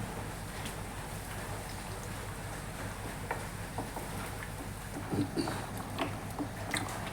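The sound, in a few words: sardine curry gravy boiling in pan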